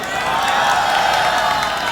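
Dense crowd applause and cheering at an outdoor street rally of resigned medical residents, a steady, loud wash of many hands and voices holding level throughout.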